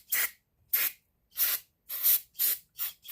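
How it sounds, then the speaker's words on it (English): Brake cleaner sprayed from an aerosol can in seven short, sharp hissing bursts at an even pace, close by with silence between them. "I'm going to take this brake cleaner and spray it on a rag"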